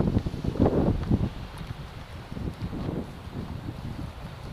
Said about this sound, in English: it's very windy out in this path